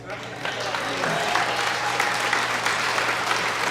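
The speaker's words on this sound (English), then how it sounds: "yeah, you can clap for that." Crowd applause at a congressional campaign kickoff rally, loud and continuous clapping from many people swelling in after a quiet start, with a faint steady hum beneath.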